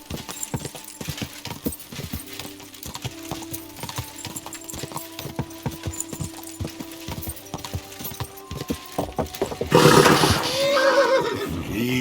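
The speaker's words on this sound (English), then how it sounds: "Easy, good horse." A horse in Kingdom Come Deliverance 2 gives a loud, close whinny near the end, following steady clip-clop hoofbeats and ambient game sounds throughout.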